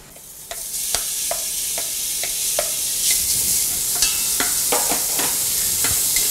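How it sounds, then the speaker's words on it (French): Lardons and onions fry in a hot pan with a loud, steady sizzle, punctuated by sharp clicks and scrapes of stirring, close and with no voices. "mettez une poêle ou une casserole à chauffer sur feu vif, en commençant par les lardons, puis les oignons qui cuiront dans la graisse de ceux-ci"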